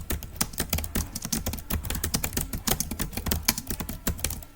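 Rapid, steady keystrokes on a computer keyboard as a paragraph is typed into a CorelDraw text box, with dense clicking close up and no talking.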